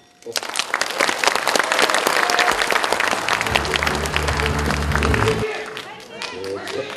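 Sustained applause from a crowd at a Jeonbuk party leadership candidates' joint speech event, following a candidate's address; dense steady clapping lasting several seconds with a low hum beneath, easing slightly near the end.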